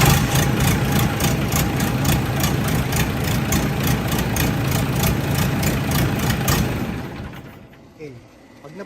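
Engine of a concrete pump model 4102 runs loud and steady with a pulsing, throbbing rumble, then cuts off near the end and fades into quiet.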